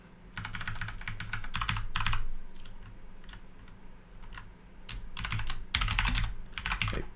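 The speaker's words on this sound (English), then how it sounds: "So when I'm typing all this stuff, it's going to the input buffer." Bursts of keyboard typing on a computer in a programming session, with clusters of quick clicking keystrokes separated by short pauses, close and fairly quiet against a low background hum.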